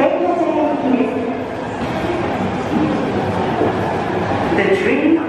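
An Osaka Municipal Subway (now Osaka Metro) train rumbles and clatters steadily close by for several seconds as it arrives at platform 1, with a station announcement voice running underneath the noise.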